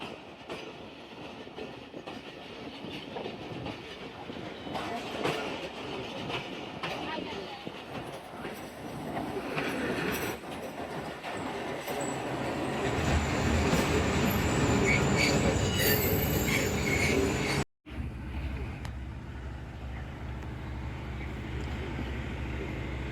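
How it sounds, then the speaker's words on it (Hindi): A passenger train on the Pakpattan to Lahore line pulls out of Kanganpur station, wheels rumbling and clattering as it gathers speed and grows louder, with a brief cut near the end and faint voices. "दो मिनट के स्टॉप के बाद हम रवाना हो चुके हैं कंगनपुर स्टेशन से"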